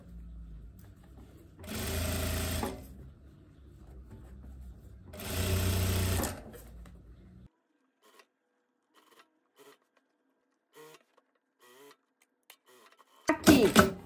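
Overlock sewing machine hemming the edge of a viscose blouse in two steady bursts of close, loud running of about two seconds each, followed by quiet handling clicks and a final short burst.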